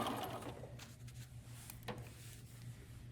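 A sewing machine stitches fabric seams on a small bunny bag, with a faint, close, steady mechanical hum and a few light clicks throughout.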